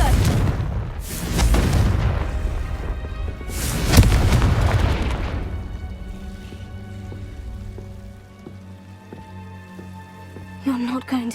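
A Confringo explosive curse in Hogwarts Legacy erupts in several loud booming blasts, followed by a fading rumble and quieter game ambience, with a brief clatter near the end.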